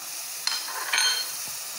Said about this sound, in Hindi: ये हमारे प्याज थोड़े से भून गए हैं।